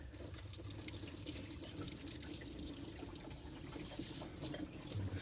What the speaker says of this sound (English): sweet, super pink antifreeze. Make sure that's going into the pan here